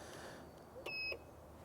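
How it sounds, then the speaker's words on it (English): A Caterham's immobiliser gives one short electronic beep of about a quarter second after its key fob button is pressed, heard faintly over low background rumble. "until you hear a click or a beep and the light starts to flash"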